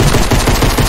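Rapid bursts of gunfire from a small pistol in the video game Fortnite, loud and close, with repeated shots filling the full second and no talk over them.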